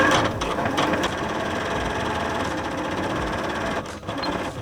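Sewing machine stitching cushion cover fabric, a steady close whirring clatter running throughout with a faint dip near the end.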